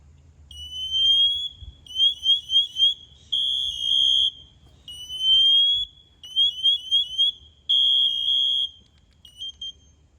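A firefighter's personal alarm shrills loudly and close by, with piercing high electronic tones repeating in bursts of rapid chirps and longer steady blasts.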